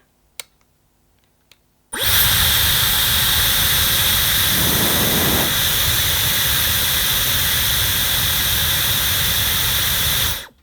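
A Dyson Airwrap on speed two switches on abruptly and blows steadily at a loud, constant roar for about eight seconds before cutting off.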